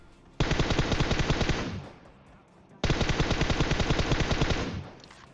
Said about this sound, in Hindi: आगे भी गोली चल रही थी